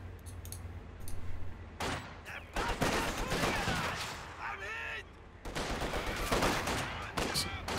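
Rifle and DP light machine gun fire in a video game battle, five-man grenadiers trading shots with a guards squad at long range; repeated bursts and cracks of gunfire, with overlapping volleys and short gaps.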